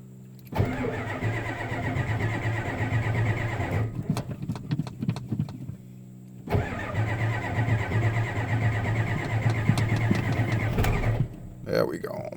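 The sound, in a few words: 1990 Ford diesel truck engine cranking and starting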